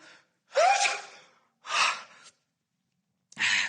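A male character in the Mystic Messenger game sneezes and gasps during a phone call, giving three close, breathy bursts separated by short silences.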